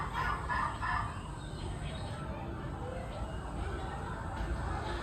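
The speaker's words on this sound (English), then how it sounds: "All he did every day was just chase the only chicken his parents owned, Burik." Cartoon chicken sound effects in an animated folk tale, with clucking and a crow heard faintly under a busy background of music and voices.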